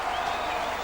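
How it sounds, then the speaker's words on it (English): Applause from a stadium crowd after a rugby league try in a Castleford versus Bradford match, a dense continuous wash of clapping and crowd noise, brief and fairly loud. "Brian Noble and his coaching staff are leading the applause for that"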